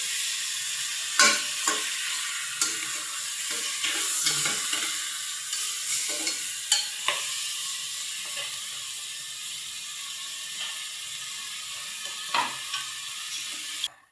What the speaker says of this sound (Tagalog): nagisa na po natin ang bangos